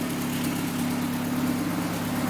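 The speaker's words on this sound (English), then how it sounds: "She idles smooth." A turbocharged B20 VTEC engine in a Honda Del Sol idles smoothly, an even, steady drone with a low pulsing hum held close and unbroken throughout.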